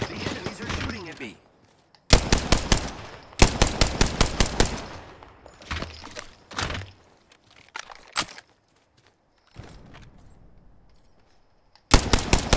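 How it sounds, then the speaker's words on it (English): Bursts of enemy gunfire in an Apex Legends match ring out in sharp, loud volleys, several rapid automatic strings separated by short gaps, with scattered game sounds and quieter stretches between them. "The enemies are shooting at me."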